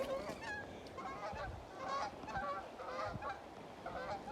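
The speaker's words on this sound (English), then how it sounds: "Some Canadian geese." A flock of Canada geese honking repeatedly at a distance near the Colorado River, overlapping calls rising and falling over faint background noise.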